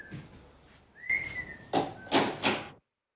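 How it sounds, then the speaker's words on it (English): A man whistles a few short notes, including a rising slide, close and fairly quiet, with faint shuffling and soft knocks around it before it falls silent. "My man whistling."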